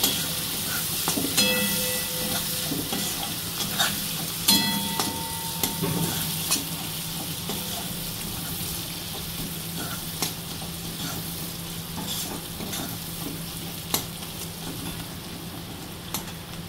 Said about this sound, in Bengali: এবার এটা আমি একটু ভাজা ভাজা করে নেব